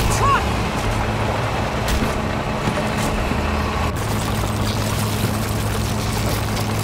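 Heavy truck engine rumbling steadily in The Walking Dead: A New Frontier video game, a continuous low drone with a brief hiss, loud and close throughout.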